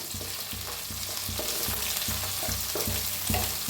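Onions and green chilies sizzle and fry steadily in a hot pan, with periodic soft scraping strokes as they are stirred, close up and without any talking.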